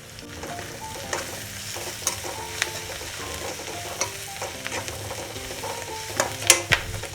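Onions and fenugreek leaves stir-frying in a pan for a menthya kadubu dish, with a steady sizzle under scattered sharp scrapes and clinks of a spatula against the metal, close and fairly quiet, no voices.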